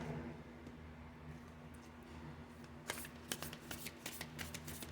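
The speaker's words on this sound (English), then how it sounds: "I'm going to go ahead and shuffle these on camera" Oracle cards are shuffled close up, a quiet rustle giving way to a quick series of crisp riffling snaps in the second half.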